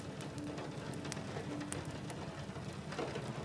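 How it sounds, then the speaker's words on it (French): Steady rain patters against window panes on a country evening, a dense continuous wash of soft taps with scattered brighter drips, moderately quiet and even throughout, no voices. "qui tapote sur les carreaux de la fenêtre"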